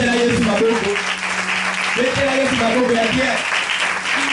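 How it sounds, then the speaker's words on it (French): Church congregation clapping together during a French-language service, a steady round of applause over a constant hum, with voices carrying through the hall. "Acclamons très fort le Seigneur"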